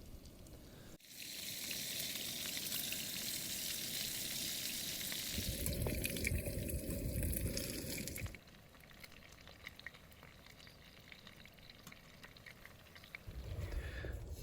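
Food frying in a skillet on a stove at a wild camp in the Peak District by the Woolpacks on Kinder Scout, a steady close sizzle that cuts out partway, leaving quieter outdoor background noise.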